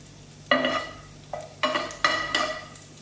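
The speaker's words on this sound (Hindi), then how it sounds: "सिर्फ कलर चेंज होने तक इसको फ्राई करेंगे कि गार्लिक थोड़ा सॉफ्ट हो जाए।" Garlic frying in a pan while a spatula stirs it, giving several short scraping and sizzling bursts close to the mic against a quiet background, with no voices.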